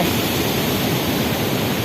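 Sluice gates opened all six at once, releasing a steady, loud roar of rushing water that fills the scene without pause or voices.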